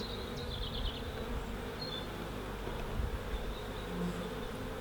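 Honey bees from a swarm being hived drone in a dense, steady buzz, with a few higher passing whines from individual bees close by, and no speech.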